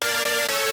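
A bright, sustained synth chord with rich layered harmonics, held steadily for under a second with two slight swells before cutting off.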